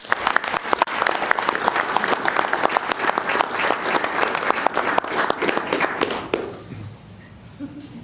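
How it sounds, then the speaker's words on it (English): Loud, sustained applause from the audience at a commission meeting, dense clapping lasting about six seconds before fading into quiet room tone. "let's give them a round of applause."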